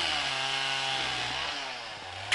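Druzhba chainsaw sawing firewood outdoors, its two-stroke engine droning steadily at close range, pitch sagging slightly as the chain bites the wood, with a brief sharp knock near the end.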